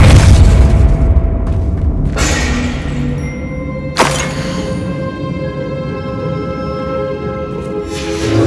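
Confringo fire spell blasting in the game Hogwarts Legacy, a loud deep boom followed by a second sharp impact partway through, with lingering rumble and ringing tones.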